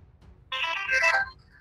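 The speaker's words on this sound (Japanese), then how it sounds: "一応今こう電話をかけるとですね。" A telephone ringtone plays as a call is placed in a She-Hulk episode, a bright electronic melody that starts abruptly, sounds for under a second, then cuts off over quiet low background noise.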